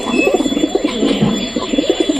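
Fantail (lakka) pigeons coo nearby in soft, repeated throaty phrases, a steady run of rounded pulses with a brief pause midway and no talking.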